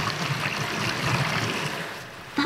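Water sloshes and swishes steadily inside a running dishwasher as its spray arm spins, a continuous close wash with no talking.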